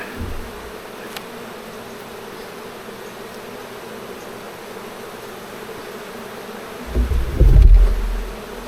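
Honey bees buzzing during a hive inspection, a steady close drone of many insects throughout, with a louder burst of buzzing and handling noise near the end.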